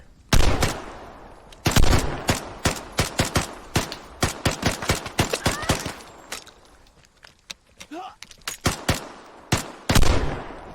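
Gunfire in the video game Vigor, rapid bursts of automatic shots and single loud cracks in an irregular rhythm, close and sharp, with short pauses between volleys.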